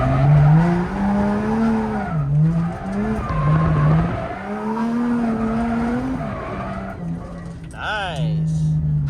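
Japanese drift car sliding through turns, with loud, sustained tire squeal that wavers in pitch over a steady engine drone, ending in a sharp rising squeal.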